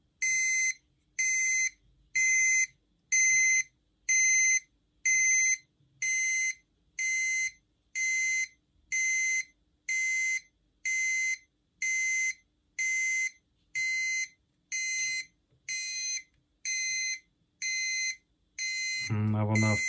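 A shrill electronic alarm beeps loudly in a steady rhythm, about one beep per second, repeating over and over with faint sounds between.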